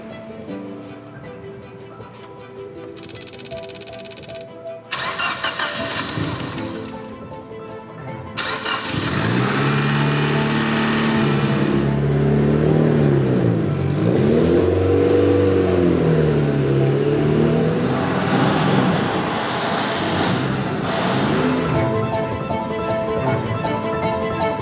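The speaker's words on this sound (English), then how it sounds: "First start up with the new turbo and header." A tuned Evo street car with a new turbo and header: the starter cranks a few times, then the engine catches and runs at a loud, rough idle, revving and falling in waves close by, with no talk.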